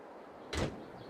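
A single cab door on a Katana 850 in Farming Simulator 22 opens or shuts with one short, fairly loud thud-and-clack, with no one talking.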